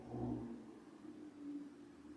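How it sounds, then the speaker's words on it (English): A loud car passes by outside, its engine rumbling low and steady across the whole stretch, swelling near the start and again later with no talk over it. "That was a very loud car."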